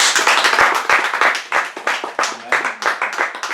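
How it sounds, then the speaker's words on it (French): A church congregation at a Paris worship service claps hard and fast in a loud, sharp burst of applause, with cheering voices mixed among the crisp, closely spaced hand claps. "On peut acclamer très fort."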